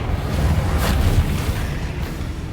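A Confringo fire spell blast in Hogwarts Legacy gameplay lands as a deep, rumbling boom with a burst of roaring noise that rolls on for a couple of seconds.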